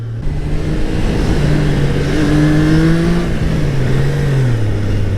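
A Triumph Trident 660 engine revs under acceleration, with a loud, continuous tone that rises and then falls through the gears, mixed with heavy wind rush.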